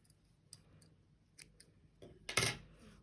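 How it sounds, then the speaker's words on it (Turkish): Scissors cutting knitting yarn while finishing a knitted baby hat: a few faint, close snips, then one louder, sharper cut near the end, with quiet between. "İpimi burada kesiyorum."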